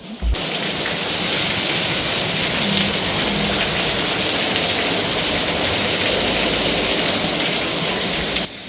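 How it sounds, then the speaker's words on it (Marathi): Heavy monsoon rain pours down in Mumbai, a loud, dense, unbroken roar of falling water that fills the whole stretch with no voices over it. "आता पाऊस अचानक जास्त सुरू झाला आहे"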